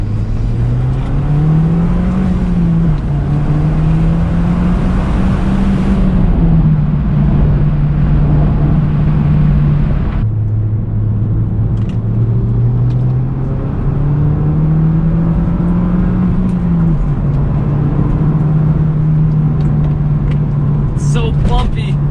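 A Mazdaspeed 6 drives along a bumpy road, its engine humming steadily as it rises and falls with small shifts in revs, with a brief dip in the noise midway and a little talk over it.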